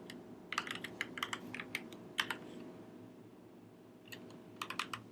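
Quiet computer keyboard typing comes in short bursts of rapid key clicks, pausing for about a second and a half before a final brief flurry, with no talking over it.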